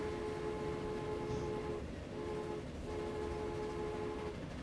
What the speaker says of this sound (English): So let's have a look at these little trains before we go again.